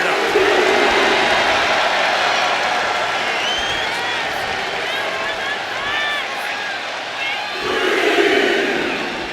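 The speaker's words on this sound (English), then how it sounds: "The crowd is fired up." A virtual arena crowd in the WWE 2K26 wrestling game roars and cheers continuously during an NXT match, a dense sustained wash of noise that swells again near the end while a commentator talks over it.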